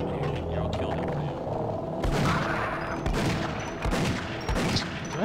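Gunfire in the video game Half-Life, a series of loud booming shots with reverberant tails, several distinct blasts repeating over steady background noise.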